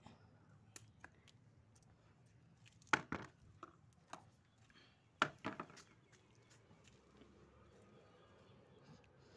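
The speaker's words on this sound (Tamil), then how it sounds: "இந்த கத்திரிக்காய் எடுத்துரும் கட் பண்ணி." Knife chopping brinjal on a board, a few sparse sharp chops and then two clustered bursts of quick cuts, close and fairly quiet with nobody speaking.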